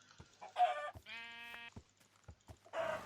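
Minecraft sheep bleat once in a short harmonic cry, surrounded by clucking chicken sounds and brief clicks.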